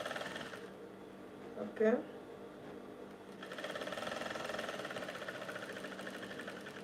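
A sewing machine stitching down a shirt collar, with a steady mechanical hum running at the start and picking up again for the second half, a person speaking briefly in the pause between.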